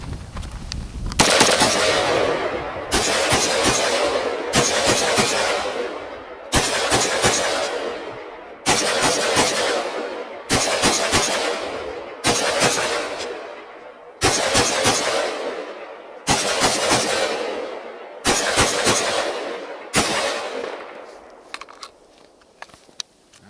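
Rifle fire from a PDS rifle at a range: about nine loud, sharp shots spaced roughly two seconds apart, each with a ringing echo tail, close to the microphone and with no talking.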